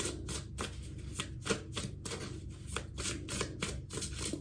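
Tarot cards being shuffled, faint and close, in a quick series of soft riffling flicks and slaps in repeating bursts, with no voices.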